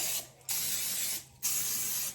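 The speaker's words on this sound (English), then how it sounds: "I'm going to spray them so that the muffins don't stick onto the paper" Two bursts of vegetable oil cooking spray onto muffin paper liners, each a steady hiss of about a second, separated by a brief pause, close and fairly quiet.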